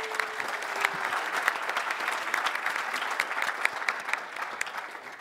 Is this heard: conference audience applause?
yes